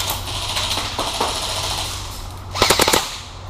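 Airsoft guns firing outdoors, with a burst of rapid snapping shots near the start and a louder, tight volley of cracks near the end, over a low steady background hum.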